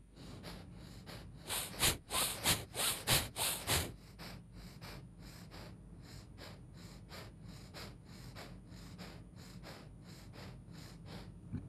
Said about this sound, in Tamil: நல்லா ஃபோர்ஸாக மூச்சு எடுத்து ஃபோர்ஸாக வெளியே தள்ளணும்